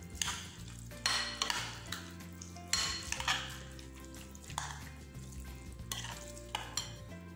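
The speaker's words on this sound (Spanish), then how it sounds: "Lo mezclamos con todos los ingredientes." Eggplant salad being stirred and tossed with all its ingredients in a bowl, giving repeated close scraping and clinking bursts of utensil against dish, steady and fairly loud with no voices.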